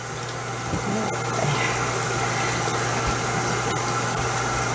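A water distiller making distilled water hums steadily in the background, a constant droning whir with a low tonal buzz, unchanging throughout and with no talk.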